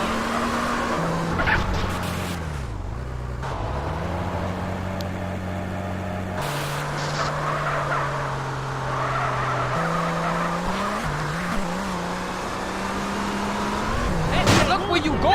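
Cars race in GTA San Andreas with a loud, close engine drone that rises and falls in pitch through gear changes, broken by tire squeals and skids and a scrape near the end.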